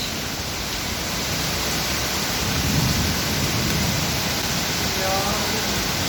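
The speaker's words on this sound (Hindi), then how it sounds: "ज़ोरदार वाली बारिश" Heavy monsoon rain pours in a dense, steady roar with a low rumble of thunder swelling in the middle, loud and constant throughout.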